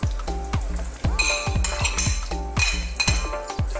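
Onions drop into leftover fish oil in a pan for a Thai fish curry, giving a soft sizzle under a run of sharp metallic clinks and clatters from a utensil knocking the pan.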